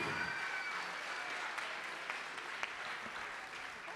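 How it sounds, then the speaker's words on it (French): Steady, dense applause from an audience at a special evening showcase of young performers in Rognac, continuous and fairly even for the whole stretch with a few sharper claps standing out. "On peut encore leur faire un tonnerre d'applaudissements"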